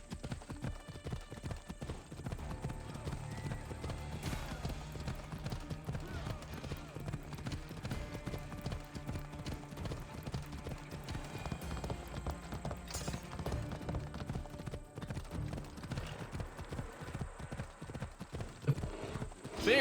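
Horse hooves pound in a fast, continuous galloping rhythm in a video game, steady and close, with an occasional whinny and faint game sounds mixed underneath.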